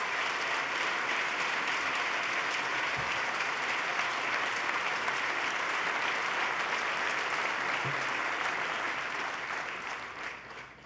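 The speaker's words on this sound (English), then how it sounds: "Let's give him a big round of applause and thank Sean Donovan for his partnership." A big audience claps at the 2014 New York State of the State address, dense unbroken applause sustained for about ten seconds before tapering off at the end.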